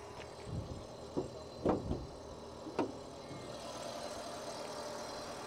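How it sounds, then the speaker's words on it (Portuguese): A few clunks and knocks, then a used car's engine settles into a low, steady idle that hums on evenly. "dar uma partida aqui para a gente escutar o carro funcionando"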